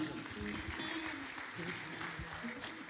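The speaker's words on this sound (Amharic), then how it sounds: "አጨብጭቡ ለጌታ" Steady applause from a crowd at a worship service, continuous clapping with a busy, sustained texture over the full stretch and no clear pauses.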